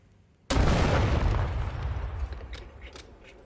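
A single loud gunshot fired into a case on the Black Ops video game firing range, a sudden close blast with a long decaying boom and faint clicks after it.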